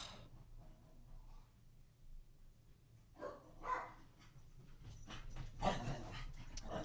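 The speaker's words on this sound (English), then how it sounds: "Oh, of course my dogs are having fun playing right now." Dogs at play make soft, fairly distant sounds: panting, whimpers and a few short yips and barks that grow busier in the second half over a quiet room background.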